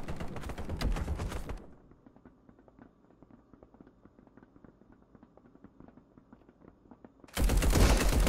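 Gunfire in the co-op shooter Marauders: loud, dense automatic bursts open and close the stretch, with quieter scattered clicks and distant pops in between.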